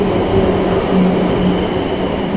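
A train rumbling into a station on the line from Winchester to New Milton, a steady, loud, continuous low roar with faint rail hum and no voices.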